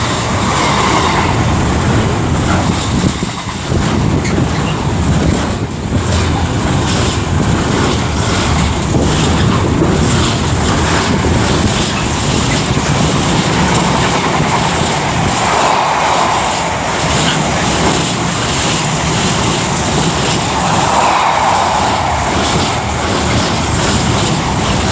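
A train rumbles steadily past at Milton Keynes Central station on the West Coast Main Line, a loud continuous roar with heavy wind buffeting throughout and no talk.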